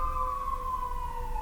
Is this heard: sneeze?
no